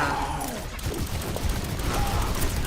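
Steady, dense gunfire from the Overwatch video game, continuous rapid shots and battle noise filling the whole stretch at a loud, close level.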